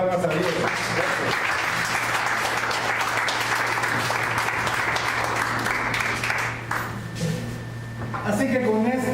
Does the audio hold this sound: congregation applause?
yes